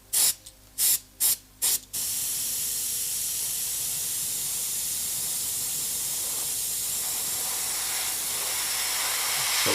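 A blower dries paint on a canvas. After four short, loud bursts of air, a steady, close rushing hiss runs on without a break.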